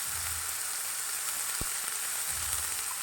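Tomato frying in a pan, a steady soft sizzle throughout with a couple of low muffled bumps and one sharp click midway, no voices.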